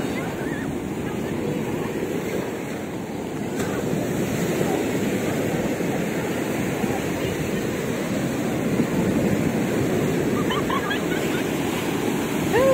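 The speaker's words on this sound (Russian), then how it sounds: "Такие волны рыбку не половишь, да?" Sea waves wash steadily onto the Odessa shore while wind buffets the microphone, a continuous loud roar of surf with gusty rumble and no clear speech.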